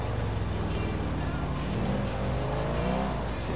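A Ferrari drives in GTA 4 with a loud, continuous engine roar as it revs and accelerates. Rising and falling engine pitch sits over dense road noise.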